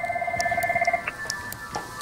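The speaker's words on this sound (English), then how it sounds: "I have Lex on the phone asking for you" A telephone rings in a trading office with a fast, even electronic trill lasting about a second, followed by a few fainter tones against a quiet background murmur.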